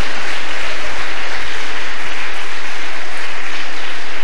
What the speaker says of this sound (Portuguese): Pode louvar a Jesus com as palmas.